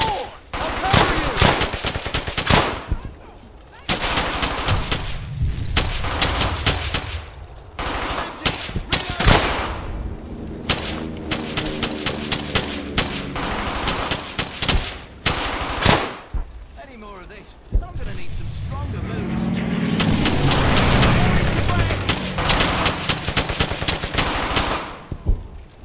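Loud, nearly continuous gunfire from the World War II shooter game Brothers in Arms: rapid machine-gun bursts and rifle shots crackle throughout, with brief lulls and shouting voices mixed in.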